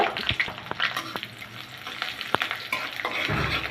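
Crushed garlic and slit green chillies frying in mustard oil with black cumin, a soft continuous sizzle broken by occasional sharp spoon taps and scrapes against the pan, no voices.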